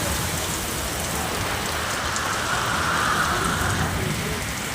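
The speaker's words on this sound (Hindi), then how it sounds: "देखिए कितना ज़्यादा बारिश हो रहा है।" Heavy rain pours steadily on surfaces outdoors, a loud dense hiss with constant spatter, unbroken throughout and close by.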